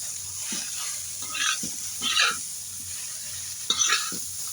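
Adobong kangkong, water spinach in adobo sauce, is stirred in a sizzling pan, with soft scraping strokes and brief bursts of frying hiss over a steady low hum, close by.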